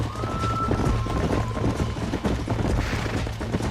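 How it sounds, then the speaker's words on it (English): Horses gallop in Red Dead Redemption, a dense rapid drum of hooves mixed with game action noise and rumble, continuous and fairly loud throughout. "There's the horses!"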